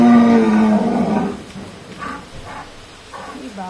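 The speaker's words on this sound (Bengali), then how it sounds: "এই দেখো ষাঁড়" A large bull lets out a long, deep bellowing moo up close, fading after about a second, followed by quieter scattered sounds in a rainy lane.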